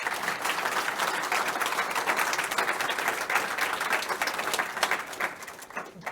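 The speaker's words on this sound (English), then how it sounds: "I just wanted to see if everyone could give a big round of applause for all the panellists" An audience at a panel discussion claps steadily for the panellists for several seconds, a dense patter of applause that tapers slightly at the end.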